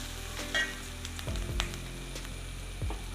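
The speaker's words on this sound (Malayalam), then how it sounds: "സവാള നന്നായിട്ടൊന്ന് വാടിയാൽ മതി" Onions softening in a hot pan for a yam recipe give a steady, close sizzle with a few brief stirring scrapes and clinks, no voices.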